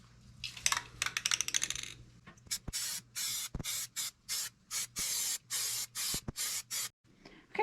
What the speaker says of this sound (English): I'm just going to spray the diamond inlays with the flat black paint